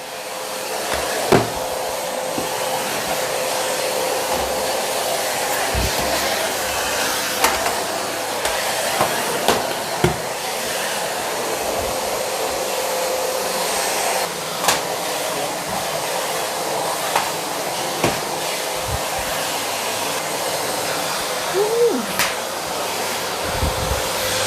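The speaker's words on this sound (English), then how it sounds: "give it a quick vacuum as well" A vacuum cleaner runs with a steady, loud whirring roar while it cleans the bottoms of kitchen drawers, punctuated by scattered knocks and clunks as the nozzle bumps the drawer surfaces.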